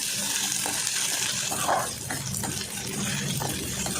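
Tap water gushing steadily over soaked meal maker soya chunks being rinsed in a kitchen, a continuous close splashing flow that dips briefly midway.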